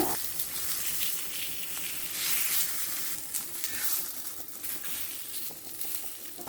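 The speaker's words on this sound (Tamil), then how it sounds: "கொஞ்சம் நல்லெண்ணெய் இல்லைன்னா தேங்காய் எண்ணெயை சூடு செஞ்சு மிதமான நெருப்பில் வச்சு வறுத்துக்கோங்க" Silver belly fish frying in hot sesame or coconut oil over a medium flame, giving a steady loud sizzle with crackling spatter throughout, close by and with no talk.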